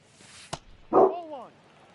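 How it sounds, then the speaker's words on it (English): A dog lets out one short bark after a sharp click, close and fairly loud, then the room falls quiet. "We don't need all that barking."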